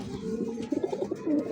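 A pair of red Bombay pigeons with yellow eyes and white beaks, offered for sale, coos softly and close up in a brief burst of throaty, rolling calls.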